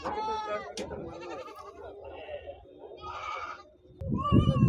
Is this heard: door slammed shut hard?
no